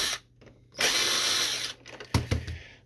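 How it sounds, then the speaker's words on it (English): An electric screwdriver whirs in a sustained burst while backing a screw out of an HP Deskjet 2546 printer, followed by a couple of sharp clicks and clatters from the plastic housing; close and loud, no speech. "we're going to remove the screw right there"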